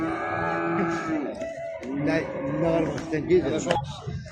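Calves low and moo at a busy livestock market selling sheep, goats and cattle, their drawn-out calls mixed with loud nearby voices of traders bidding and talking over the animals.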